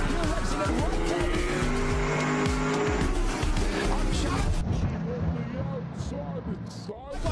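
Race cars at the start of the Dubai 24 Hour top-ten shoot-out, a Porsche among them, roar loudly together with engine drone and tyre squeal, a dense continuous wall of motor noise with a commentator talking over it.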